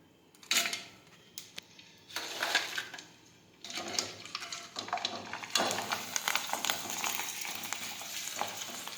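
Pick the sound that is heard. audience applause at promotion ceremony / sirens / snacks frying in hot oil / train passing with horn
snacks frying in hot oil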